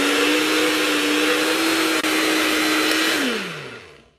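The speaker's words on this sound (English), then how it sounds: "I've literally put like half of this ice cream container in this blender." A blender runs at a steady high whine while blending ice cream into a milkshake, loud and constant, then the motor winds down and fades at the end.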